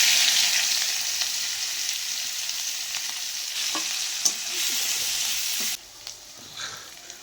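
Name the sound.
cumin, onion paste and garlic paste frying and stirred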